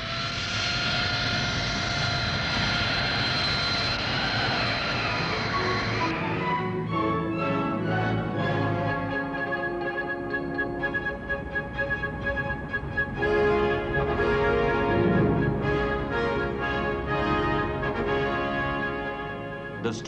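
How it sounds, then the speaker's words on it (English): An RAF jump jet strike aircraft taxis out from under trees under its own power, with a loud, sustained whining jet roar whose tone shifts and rises as it moves close by, continuous for the whole stretch. "the planes trundle out from under the trees under their own power"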